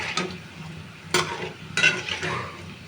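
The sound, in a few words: palm fritters (taler bora pitha) frying in oil, being stirred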